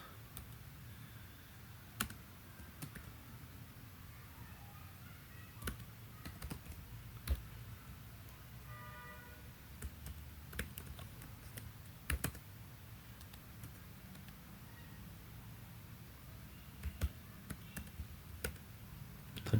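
Computer keyboard typing, a steady run of light key clicks and taps spread over the whole stretch, fairly close but quiet, heard alone without any talk.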